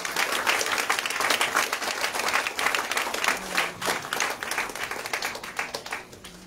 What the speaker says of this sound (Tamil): கரகோஷத்தோடு அவரை அழைப்போங்க